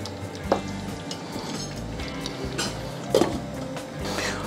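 A spoon stirs creamy chicken Afghani marination in a sizzling pan, with soft scraping, two sharper clinks of utensil on metal and a steady low frying hiss, quiet and close.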